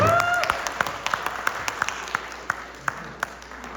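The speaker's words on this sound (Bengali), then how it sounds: "জোরে আর একটু হাততালি আশা করতেই হবে" An audience at a Victory Day celebration claps for a children's performance, a run of fairly regular, distinct claps over a low background murmur.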